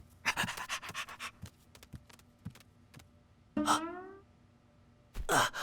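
A puppy pants up close in a quick run of short, rhythmic breaths, then gives a thin whine, with a louder huff at the end.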